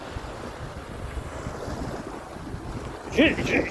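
Waves wash and lap continuously against the shore under steady wind noise, with a brief louder splash near the end.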